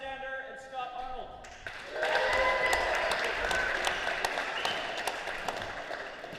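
Crowd applauding at a match during a memorial tournament, clapping swelling up after a brief musical tone and holding steady as a dense, bright patter for several seconds.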